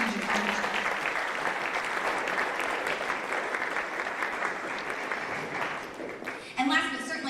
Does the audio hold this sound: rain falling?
no